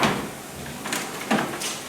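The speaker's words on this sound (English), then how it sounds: "close the drawer." Washing machine detergent drawer being pushed closed, a couple of short plastic clunks and slides standing out over quiet room noise.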